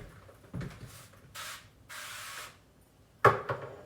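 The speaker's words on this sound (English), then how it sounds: "I have some extra virgin olive oil spray. I'm gonna spray the pan." Several hissing bursts of an olive oil cooking spray onto a pan, short and then longer, followed by a sharper clatter near the end.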